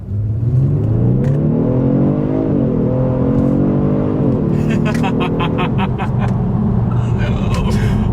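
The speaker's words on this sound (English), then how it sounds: "let's do a quick little acceleration, letting the car do the shifting, and let's see how quickly we can get this new 2020 G70 here up to speed" A 2020 Genesis G70 sedan accelerates hard from a standstill with its automatic transmission doing the shifting, the engine note climbing in pitch and dropping at each upshift, loud and close from inside the cabin.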